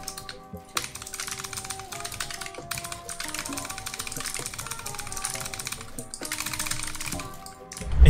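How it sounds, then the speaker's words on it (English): Rapid clicky typing on a Razer Huntsman Tenkeyless keyboard with purple optical switches, close and steady in bursts with brief pauses, over a soft musical tone bed, ending with a louder thump. "brand new keyboard, which is the Razer Huntsman Tankless with purple optical switches. They're super clicky"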